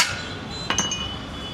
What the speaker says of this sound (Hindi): और हथौड़े से थोड़ा मार के कुछ जुगाड़ बनाया जा रहा है कि ये चल जाए।